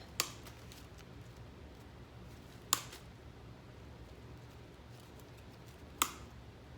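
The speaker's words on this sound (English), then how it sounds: "now I'm just going to take this and cut this off." Scissors cutting artificial greenery stems, three short crisp snips spaced a few seconds apart, close and quiet against a faint background.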